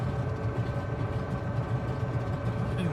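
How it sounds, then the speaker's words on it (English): Right piston engine of a Grumman Widgeon amphibian aircraft running steadily just after start, a continuous low, throbbing drone with a pulsing rumble and no talk over it. "And the right engine is going."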